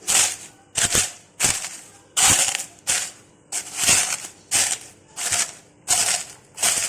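Rhythmic crushing and pounding of spices by hand for Soto Lamongan, about ten sharp, crunchy strikes at a steady pace, close and fairly loud, with no talking.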